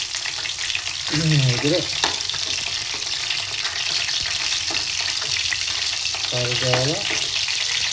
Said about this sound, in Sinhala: හොඳට මේ සැවැන්දරා මුල් පොඩ්ඩක් මේ තෙලේ බැදෙන්න දෙන්න ඕනේ